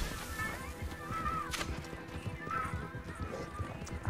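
Hoofbeats of a horse galloping in Red Dead Online ride past in a steady clip-clop rhythm, with a brief whinny, continuous and moderately loud throughout.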